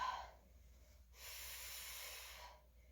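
A person exhaling during a dumbbell workout: a steady, breathy hiss of air lasting over a second, close but quiet, after a short sharp intake at the start.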